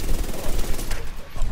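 Rapid automatic gunfire from a shooter video game played on a controller with the trigger held down, a dense continuous rattle of shots running the whole time, loud and close, with voices partly underneath.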